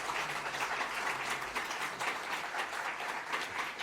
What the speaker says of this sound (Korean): 뜨거운 박수로 감사하겠습니다